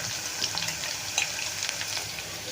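Onions fry lightly in oil with an even, close sizzle, punctuated by occasional soft stirring scrapes and crackles, no voices.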